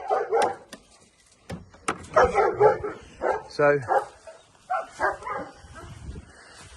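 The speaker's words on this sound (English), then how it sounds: "There's my dogs there." Dogs bark in short separate yaps and yips mixed through a man's nearby speech at a property, a few loud barks coming between and over the talking.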